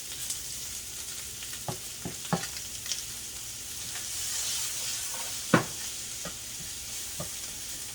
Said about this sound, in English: The onion and garlic and ginger start cooking